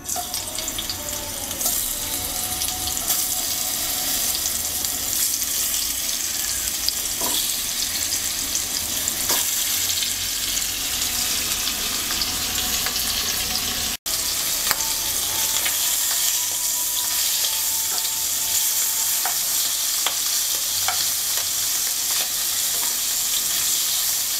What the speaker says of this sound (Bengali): তেলটা গরম হয়ে গেছে, মাছ দিয়ে দিচ্ছি।